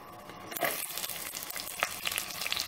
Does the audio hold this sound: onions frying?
yes